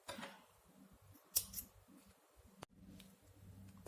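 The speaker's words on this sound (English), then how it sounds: "and cut the yarn." Scissors snip through crochet yarn at the end of a beaded friendship band. Two crisp, close cuts come a second or so apart against a very quiet background.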